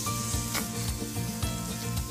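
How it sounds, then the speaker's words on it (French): Water sizzling steadily on a hot stainless steel Cristel frying pan, a continuous close hiss with faint rubbing and scraping, no voices. "Lorsque j'obtiens des petites billes en surface en jetant de l'eau sur mon inox chaud"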